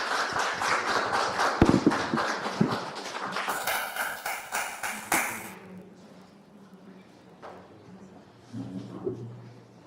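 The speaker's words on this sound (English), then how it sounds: "Please clap hands for them." Applause for a summit panel starts loud and dense, then thins into scattered claps and fades, with a few taps and some background voices over a room murmur.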